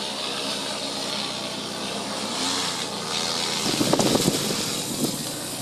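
An agricultural drone spreading fertiliser over a rice paddy makes a steady, fairly loud propeller whir that holds throughout, with brief rustling bursts near the end.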